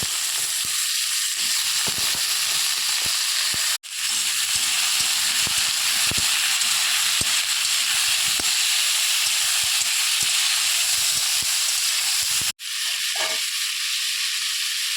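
Cut potatoes and eggplant fry together in a pan, with a loud, continuous close sizzle and hiss, light stirring scrapes and two brief breaks in the sound.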